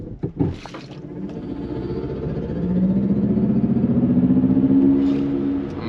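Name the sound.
Mercedes EQS 580 electric car accelerating in a race start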